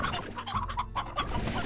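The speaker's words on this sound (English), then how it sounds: "Many more chickens." Several chickens in the video game Slime Rancher cluck and chatter continuously close by, a busy overlapping barnyard clucking with no talking.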